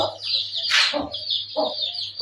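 Chickens and chicks cluck and squawk close by in short bursts at feeding time as grain is scattered, with a higher chirping call running over them and a low steady hum underneath.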